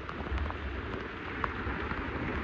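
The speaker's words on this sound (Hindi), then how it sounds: "वो दिन आ गया कि बारिश हो रही है।" Monsoon rain falls as a steady, moderately loud broadband hiss, with occasional faint drips and taps and no voices.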